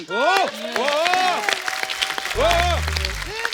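Studio audience applause at a televised Indian comedy talk show, a dense wash of clapping running under loud overlapping talk and laughter.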